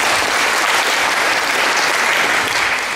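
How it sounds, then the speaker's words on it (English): A lecture audience gives a round of applause, a loud, steady, dense burst of many hands clapping together that holds evenly for a few seconds. "Can we give them a round of applause for what they do?"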